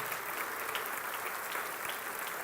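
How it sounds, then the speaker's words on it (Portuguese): A church congregation claps together in dense, steady applause that fills the space evenly throughout, with no single voice standing out. "Vamos dar um aplauso ao Rei da Glória pela sua vida."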